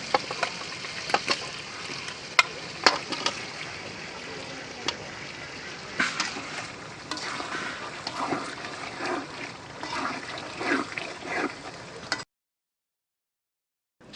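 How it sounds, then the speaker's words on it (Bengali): Broiler chicken pieces sautéed in spice masala, giving a continuous crackling sizzle with scattered stirring scrapes before the sound abruptly stops near the end. "ভাজা মাংসগুলো এবার মশলায় ছেড়ে দিন এবং ভুনো করতে থাকুন।"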